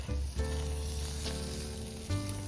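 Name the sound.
meat sizzling on a grill net over a campfire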